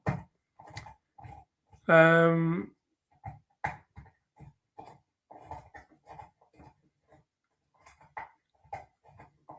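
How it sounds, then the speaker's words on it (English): A dog gnawing a bone indoors produces scattered soft clicks and chewing noises, broken by one short, loud whining yelp near the start. "Is that the dog with the bone I can hear?"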